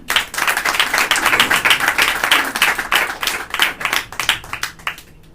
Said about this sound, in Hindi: इनके लिए एक बार तालियां हो जाए।